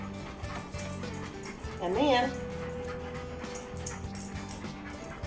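A dog in a kitchen gives a single short, high whimper partway through, heard under a person talking and light background noise.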